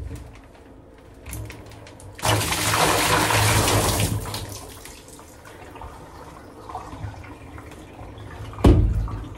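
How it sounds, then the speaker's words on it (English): Water pours out of the bell of a tuba being tipped during a bath, a loud gushing splash of a couple of seconds followed by softer trickling, dripping and a later brief slosh, with no talking. "Look how much water is gonna come out of this bell."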